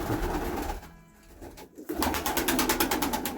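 Young pigeons coo softly in repeated throaty phrases in winter, with a brief flutter of wings and outdoor background noise.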